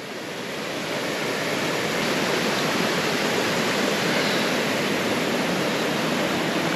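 Rapids and little cascades on a mountain stream at Janjske Otoke, Šipovo, pour in a continuous full roar, swelling over the first seconds and then holding steady and loud with no talking.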